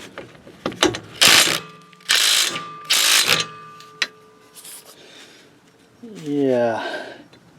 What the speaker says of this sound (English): Next, you're going to have to remove this bolt, which is a 15 millimeter.